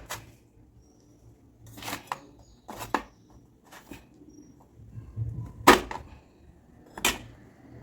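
A knife or dosa spatula cutting through a firm homemade sweet like Mysore pak on a board, giving a few separate sharp cuts and scrapes spaced a second or so apart, close and crisp against a quiet kitchen background.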